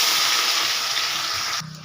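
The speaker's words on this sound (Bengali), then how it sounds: "সাদা জিরে শুকনো লঙ্কা ফোড়ন দেব" White cumin seeds and dried red chillies hit hot oil for a vegetable fried rice, giving a loud, steady, hissing sizzle that abruptly drops to a quieter sputter near the end.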